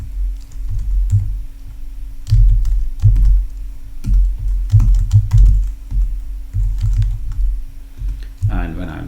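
Typing of a username and password on a computer keyboard while setting up a server, a steady run of soft clicks and key taps throughout, with a low steady hum beneath.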